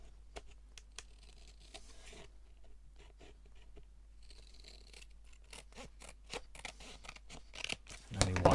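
Scissors trim a paper tag for an accordion pocket craft project, giving a run of quick, close snipping and crinkling clicks that grow denser and louder toward the end, with no talk.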